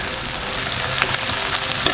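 Sliced onion, curry leaves and coriander stems sizzle steadily in a pan for a traditional chicken curry, with constant close frying noise and scraping stirs and no talking.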